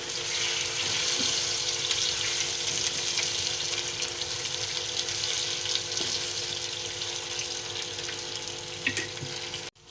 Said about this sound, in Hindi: अब इसमें हमने आलू इस तरह से कटिंग करते हैं, आलू डालते हैं इसमें।